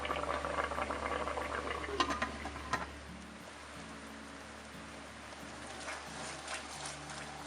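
Pot of coconut milk and sticky rice for biko at a rolling boil, a steady close bubbling and popping that fizzes louder at first and then settles into a softer simmer.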